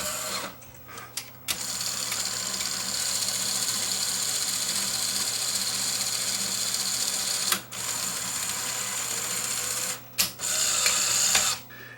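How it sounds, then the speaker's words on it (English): Faulty Sony SL-HF300 Betamax VCR running its tape-loading mechanism, a steady close whirring motor drone with a low hum, broken by a few brief clicks and stops as the loading cycle fails to pull the tape in. "even though it's spinning, it's not pulling the tape in"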